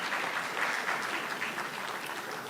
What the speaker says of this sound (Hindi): हम सभी तालियां बजा करके इस अभिनंदन में उनका साथ दें।